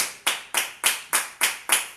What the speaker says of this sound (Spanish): Dale un aplauso a mi Dios porque se lo merece.